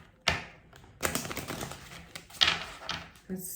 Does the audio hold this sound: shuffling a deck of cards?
yes